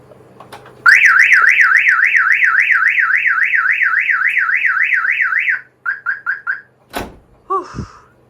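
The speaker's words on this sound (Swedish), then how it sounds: "Nu har larmet gått igång" A car alarm blares close and loud, cycling a rising-falling warble for several seconds, then switching to short repeated chirps before cutting off, followed by a sharp door thunk and a brief squeak.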